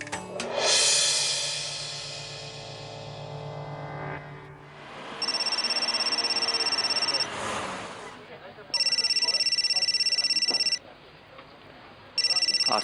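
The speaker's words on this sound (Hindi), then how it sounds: "आरती जी का फोन।" A phone ringtone chimes in repeated bursts with gaps between, close and clear, after a brief musical swell at the start.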